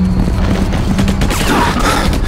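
Sustained gunfire and explosive booms from the Battle: Los Angeles video game, dense and continuous with a player voice briefly heard over the battle noise.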